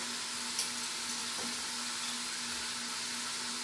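Pork browning in the sauté mode of an Instant Pot, a steady, close frying sizzle with a constant hiss and faint hum, no talking.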